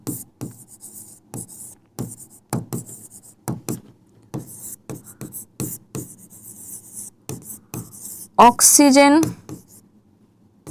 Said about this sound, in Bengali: তাহলে আমি এখানে লিখে দিচ্ছি